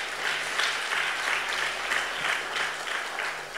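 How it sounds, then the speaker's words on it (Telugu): An audience at a pastor interview claps together in a steady burst of applause, close and even across the whole stretch. "ఒకసారి చప్పట్లు కొడదామా?"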